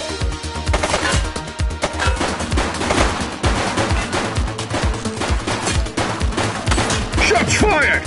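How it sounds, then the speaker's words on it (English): Rapid bursts of automatic gunfire in The Precinct, a video game, crackling near and loud in a dense, steady barrage across the whole clip, with faint voices under the shots. "Shots fired!"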